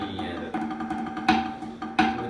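Drum practice of accented left-hand 16th notes moving into 32nd-note rolls, a dense stream of quick strokes with two louder accented hits standing out, played close and without talk.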